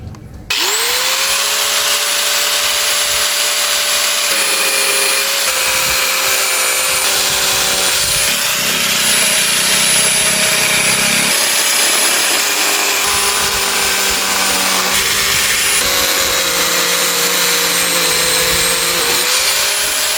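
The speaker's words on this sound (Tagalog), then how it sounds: "Setup ko lang yung grinder natin para matabas na natin to." An angle grinder cuts through the rear fender of a Yamaha YTX 125 motorcycle with a loud, continuous high-pitched whine that dips slightly in pitch under load, running for about twenty seconds with no talk.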